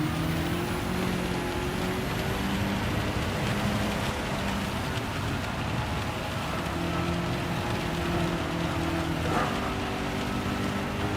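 Steady rain hiss in the Gran Turismo 7 racing game at Fuji Speedway, blended with a continuous droning race-car engine tone that holds throughout, loud and unbroken.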